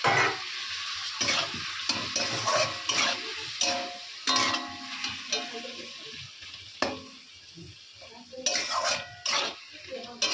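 Water splashes into a curry frying in a pan, setting off a sizzle while a utensil scrapes and clinks against the pot in uneven bursts, close and fairly quiet.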